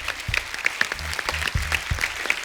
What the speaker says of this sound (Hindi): सो एक बार जोरदार तालियां हो जाएं फिल्म थप्पड़ की पूरी टीम के लिए।